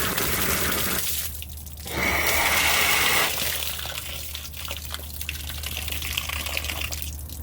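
Opening a valve on a Nuvo H2O filter plumbing setup lets water rush and gush through the pipes in a loud surge, followed by a softer steady flow with occasional drips.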